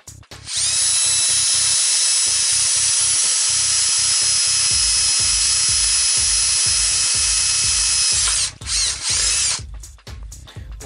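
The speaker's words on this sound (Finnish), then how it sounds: "tää pleksilasi, niin siihen pystyy ihan poralla, kun varovasti porailee" A high-pitched power drill whines steadily for several seconds at close range, then stutters and stops in short bursts as it bites through plexiglass.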